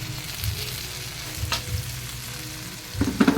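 Dried shrimp paste sizzles in a pan with onion and garlic, a steady close frying hiss broken by a few stirring scrapes and clatters, with a louder burst of stirring near the end.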